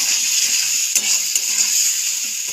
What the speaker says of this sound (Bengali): আঁচটাকে বাড়িয়ে দিয়েই এভাবে কষিয়ে নেব